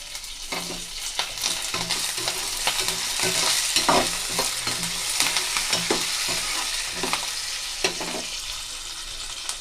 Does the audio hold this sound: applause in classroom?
no